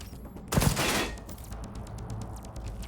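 Gunfire in Cyberpunk 2077 aimed at a thin wall: a loud burst of rapid shots opens, followed by a steady run of quieter, evenly spaced shots.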